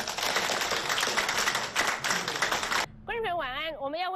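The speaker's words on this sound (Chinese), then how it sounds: "我们相信你，我们热烈的鼓掌" A crowd at a Kuomintang party standing committee meeting bursts into loud, dense applause for about three seconds, and then a single voice speaks.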